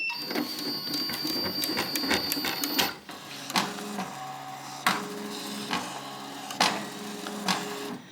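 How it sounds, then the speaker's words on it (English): A Ricoma MT-1501 embroidery machine drives its frame out to needle 1, giving a steady motorized whir for about three seconds, then a series of mechanical clunks and short whirring bursts at irregular intervals, close by with no talking. "I'm gonna go ahead and hit the frame out button so it puts us at needle 1"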